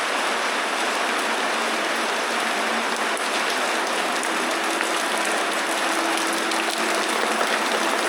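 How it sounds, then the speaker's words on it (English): Heavy rain pours steadily on a sailboat, a dense, continuous roar of water drumming on the open cockpit and deck close by, with no letup. "See how hard it's pouring outside."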